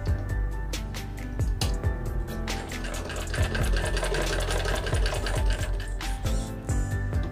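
Sewing machine stitching fabric around a neck shape during practice, a loud close run of fast needle clatter with brief pauses and thumps as the cloth is turned.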